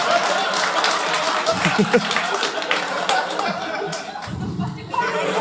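Comedy club audience at a stand-up show in Austin, Texas, clapping and laughing in a steady wash of applause, with someone talking over it.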